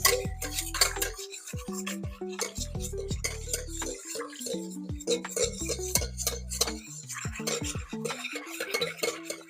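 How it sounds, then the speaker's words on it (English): Melted butter is whisked into almond milk and eggs in a bowl, a close, rhythmic clinking and scraping of the whisk against the sides, quick irregular strokes without talk. "Now, this butter that melted in the oven, I'm going to mix that in with the almond milk and the eggs."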